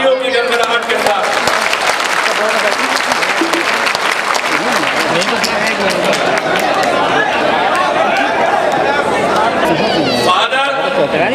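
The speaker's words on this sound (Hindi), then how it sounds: "आप इनका इस्तेमाल कीजिए तालियों की गड़गड़ाहट के साथ।" Thunderous audience applause at a rights conference rally, loud and sustained for over ten seconds, dense clapping with crowd chatter mixed in before it tapers off at the end.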